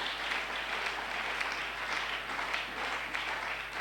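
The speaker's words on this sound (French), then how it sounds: "Il mérite nos acclamations, s'il vous plaît." A church congregation applauds during a sermon, the clapping continuous and fairly even, with a low steady hum beneath it.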